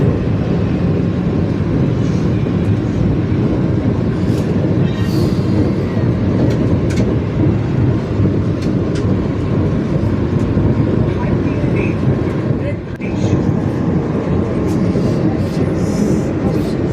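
A Vande Bharat Express train runs along the line, producing a steady, loud, continuous rumble of wheels and carriage noise that holds evenly with only one brief dip.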